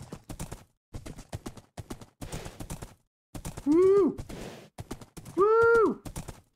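Horse hooves galloping in Minecraft, a steady clip-clop in bursts with a couple of loud, drawn-out whinny-like calls rising above it.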